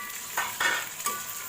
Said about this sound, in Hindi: अब इसमें मैं साबुत मसाले गरम मसाले ऐड करूँगी और साथ ये चिकन डाल दूँगी।